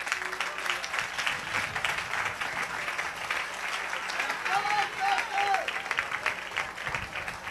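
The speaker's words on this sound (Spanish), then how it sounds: "Aplauda para el Señor." Congregation applauding during a church service, steady dense clapping from many hands throughout, with a voice briefly audible underneath.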